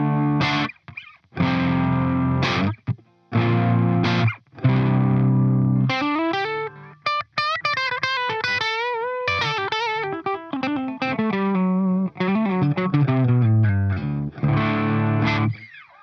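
A Gibson Flying V Faded electric guitar, played clean on the bridge pickup, rings out strummed chords and then quick single-note runs, clear and close with brief pauses between phrases and no talking.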